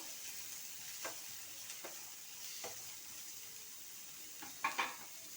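Dal and spices for a drumstick-leaf (moringa) sambar roasting in a pan, giving a soft steady sizzle with a few light stirring scrapes and a quick pair of utensil clinks near the end, no voices.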